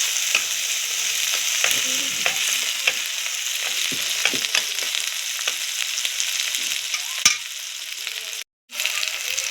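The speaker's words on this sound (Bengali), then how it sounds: "ভালো করে মশলাটা কষতে হবে" Steady sizzling of a spice paste with ground cumin, tomato and green chilli frying in a pan, with scattered scraping clicks from stirring throughout, close and fairly loud, and a brief dropout near the end.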